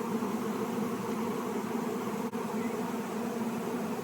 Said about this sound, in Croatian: Evo, ima jako puno pčela